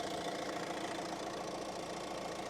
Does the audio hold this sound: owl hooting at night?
no